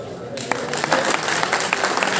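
A crowd at a village panchayat election rally bursts into sustained applause, with dense, scattered clapping that grows after a brief start and continues steadily.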